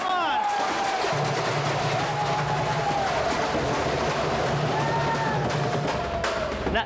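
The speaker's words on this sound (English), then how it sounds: "Now that's the kind of round of applause I like to get" A theater cast and crew's round of applause and cheering rolls on steadily throughout, a dense crowd wash with scattered shouts layered over the sustained clapping.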